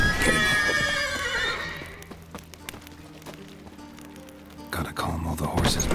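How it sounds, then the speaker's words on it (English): A horse whinnies loudly in The Witcher 3, the call falling in pitch over about two seconds, followed by quieter stable noise, rain-like patter and another burst of horse sounds near the end. "Gotta calm all the horses before they wake the guards."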